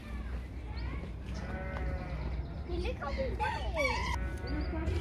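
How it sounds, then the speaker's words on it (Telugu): Buff Orpington chickens cluck and squawk in a busy countryside farmyard near London, with a rooster-like call and other animal bleats mixed in over steady background noise and voices. "ఇప్పుడు మనం చూసేది ఒక టైప్ ఆఫ్ నాటుకోడి, కానీ దీని పేరు ఏంటంటే బఫ్ ఆర్పింగ్టన్ చికెన్"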